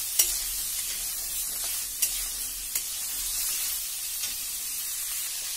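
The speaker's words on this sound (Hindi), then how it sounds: "अब हम इसमें हरी मिर्च डालेंगे, अदरक डालेंगे, इसको अच्छे से भूनेंगे" Green chilli and ginger fry in hot oil over a high flame, giving a steady close sizzle broken by a few sharp clicks of stirring against the pan, with no talking.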